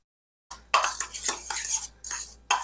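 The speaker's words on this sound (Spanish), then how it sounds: "Lo vamos a mezclar bien." A spoon stirring paprika, oregano, black pepper, basil and minced garlic for pork tenderloin cecina, clattering and scraping against a bowl in irregular close bursts after a brief silence.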